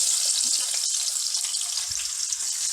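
Onions frying in desi ghee in a pot on a high flame, a loud steady sizzle with bubbling crackle running throughout, no voices.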